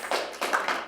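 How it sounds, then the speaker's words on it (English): A few quick, faint claps from participants at a corporate public-speaking workshop in Melbourne, heard as separate soft taps rather than sustained applause. "Give yourselves a round of applause."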